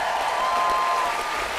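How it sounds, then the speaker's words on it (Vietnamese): Studio audience applause at a televised Vietnamese singing competition, a brief, steady burst of clapping with a faint tone running beneath it. "Một tràng pháo tay"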